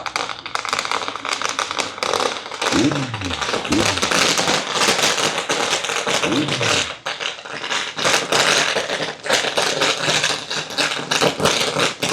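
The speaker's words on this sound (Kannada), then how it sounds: "ಯಾರಪ್ಪ ಇದು ಸರ ಪಟಾಕಿ ಹಚ್ತಾರೆ" A string of firecrackers bursting during a Deepavali festive night ride in Hassan on a Kawasaki Z900, a continuous dense crackle of rapid pops mixed with traffic and engine noise, with a voice talking over it.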